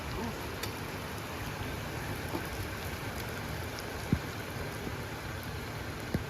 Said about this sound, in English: Clear skies 1 minute and then it's raining the next.